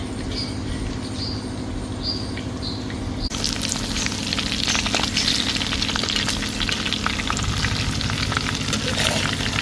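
Fish fried in a pan, a steady loud sizzle and crackle of hot oil, close up, turning noticeably louder and busier partway through as the pieces are moved.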